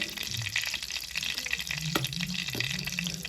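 Tomato, garlic, green chillies, ginger and onion sautéing together in a pan for a mackerel curry, a moderate sizzle broken by wet, sloshing stirs and a few sharper clinks.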